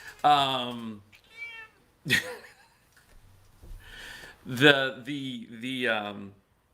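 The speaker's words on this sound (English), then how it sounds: "We have a cameo from our cat." Pet cat meowing indoors, several drawn-out close meows with pauses between them, the last ones longer and more insistent.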